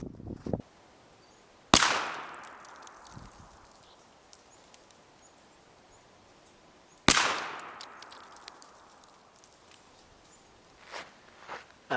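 Shotgun firing Browning BXD 5-shot turkey loads through full and improved modified chokes at an outdoor patterning range, two sharp loud blasts several seconds apart, each trailing off in a decaying echo.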